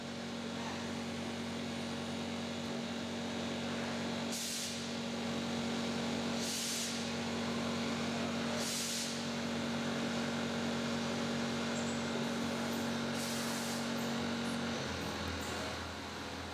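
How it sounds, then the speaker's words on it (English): Brass rod spinning against stationary tools as it is machined into a scuba regulator body, a steady loud mechanical hum with a constant tone and periodic bursts of hissing coolant or cutting noise. "The brass rod spins and the tools remain stationary."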